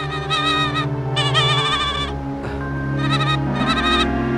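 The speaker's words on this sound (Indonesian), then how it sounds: "Karena aku mendengar seekor anak domba mengembik di tengah-tengah kebun yang hijau." A lamb bleats in a garden, crying out in several long, loud, wavering calls with short pauses between them, up close and without any talking.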